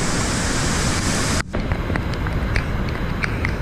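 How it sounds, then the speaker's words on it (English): Small waterfalls rush on a windy mountain hunting trail at Adams Flat, giving a loud, steady broadband roar that briefly drops out partway, then returns with light scattered knocks. "We've got this little hump of waterfalls to cross"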